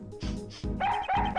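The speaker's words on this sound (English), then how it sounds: "Bark, bark, bark!" A dog in the Miles Edgeworth Investigations 2 video game lets out a quick series of four yipping barks, close and fairly loud, with no talking over them.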